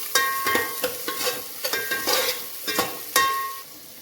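Ginger garlic paste fries in a pan for egg biryani with a steady sizzle, broken by a run of sharp, close scraping strokes as the paste is stirred. Nobody talks.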